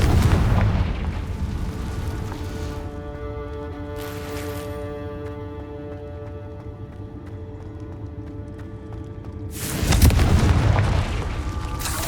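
Confringo fire spell explosions from Hogwarts Legacy, loud booming blasts at the start and again near the end, with a sustained tonal magical hum ringing between them.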